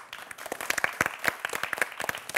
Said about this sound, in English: Please give a round of applause for our two teams today.